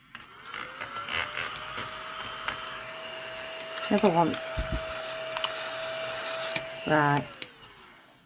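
Hoover vacuum cleaner running in a spare room, a steady droning whine held throughout with a few thumps and bumps as it moves, and brief talk over it near the start and end.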